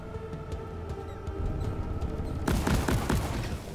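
A weapon in Deep Rock Galactic fires at several targets in quick bursts, its crackling shots stacking into a dense volley that grows louder and fuller partway through, with no speech.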